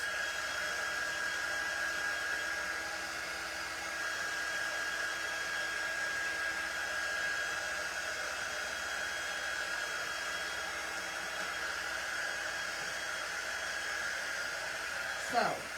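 A hair dryer drying painted cutting board pieces, a steady, even whirring hiss with a faint tonal whine that holds constant for about sixteen seconds, then a brief clatter near the end, with no speech.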